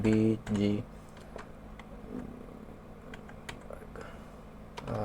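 Keys tapped on a computer keyboard while HTML code is entered, giving scattered light clicks at an uneven pace under a low room hum, with a voice briefly at the start and end.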